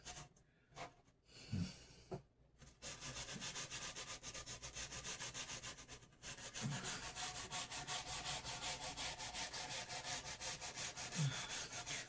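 Sandpaper of 180 grit rubs across the edge of a Squier bass guitar body in steady back-and-forth strokes, close and fairly loud, with a few short pauses and knocks early on before continuous rhythmic scratching.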